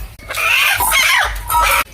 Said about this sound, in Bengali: মুরগিটা বাইন্দা রাখছে এখানে